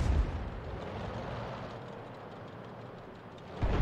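The Sturmpanzer I Bison artillery gun fires in a video game, opening with a heavy booming shot, followed by a long rumbling tail and a second loud blast at the end.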